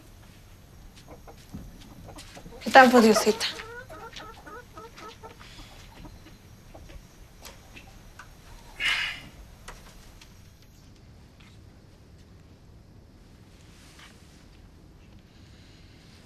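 A hen clucks in two bursts, a loud cackling run near the start and a shorter squawk later, over quiet rural background with faint ticking, while a voice speaks briefly.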